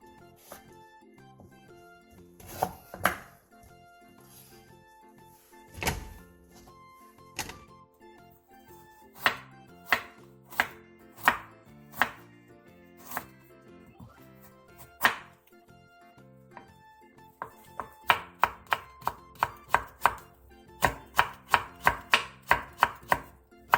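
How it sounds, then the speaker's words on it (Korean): A knife julienning burdock root on a cutting board gives sharp, crisp taps, sparse and irregular at first and then quickening into rapid runs of close chops, with a quiet background between strokes. "씻은 우엉은 5cm 정도 길이로 통썰기 한 뒤 얇게 채 썰어주세요"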